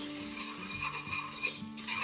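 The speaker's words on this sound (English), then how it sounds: "we're going to add in our flour and whisk it together really well" A whisk stirs flour into melted butter in a pot, making soft rhythmic scraping and light clinking against the metal over a faint sizzle, close and fairly quiet, with no voices.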